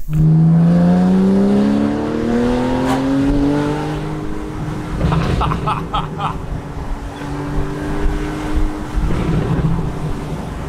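A loud Porsche Cayenne GTS V8 with sport exhaust revs up, its pitch rising through the gears, then settles into a rough, rumbling drive with crackling exhaust pops.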